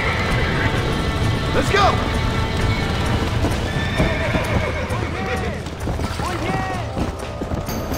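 Horses in the Red Dead Redemption video game gallop with rapid clip-clop hoofbeats, with several sharp neighs and whinnies over the top, while a person talks and shouts throughout.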